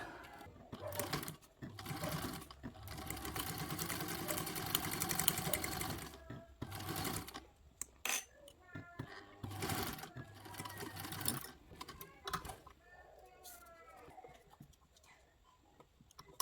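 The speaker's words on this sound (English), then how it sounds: "we're going to top stitch down the 2 long edges at a 1/8 seam allowance" A sewing machine top stitches the two long edges of a fabric caddy, running in sustained rapid bursts separated by brief stops, close and fairly steady, with no voice.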